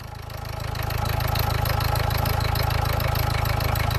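An engine with a fault in its system idles close by in a steady, loud, rapid throb, rising slightly at the start and then holding an even chugging rhythm.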